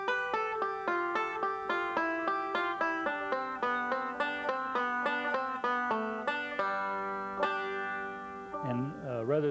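A five-string banjo picks a quick passage of crisp, evenly spaced plucked notes that slows toward a sustained note, followed by a brief wavering bent-note flourish, close and fairly quiet, played alone.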